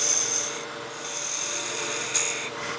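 A German smoker spins on a wood lathe while a spindle gouge cuts it, giving a steady high whirring rasp with a faint motor hum underneath, close and continuous with a brief bump in intensity near the end.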